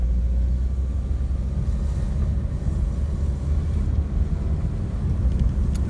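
Wind rushing through an open car window while driving, a continuous heavy low roar and buffeting rumble that fills the whole stretch with no pause.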